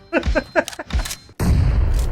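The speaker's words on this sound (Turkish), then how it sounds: "Bomba kafamda patladı." Bomb blasts in a multiplayer shooter video game: a quick series of sharp thumping bursts, then a sudden loud, sustained roaring explosion close by.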